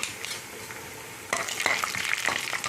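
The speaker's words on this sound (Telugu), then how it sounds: "ఆవాలు, జీలకర్ర, ఎండుమిరపకాయల పోపు ఇది కొంచెం వేగిపోయాక, నూనె వేడిగా ఉంది కాబట్టి తొందరగా వేగిపోతాయండి" Mustard seeds, cumin and dried red chillies crackle and sizzle in hot oil for a tempering, a steady frying hiss that turns louder and busier halfway through, with sharp spattering pops and no talk.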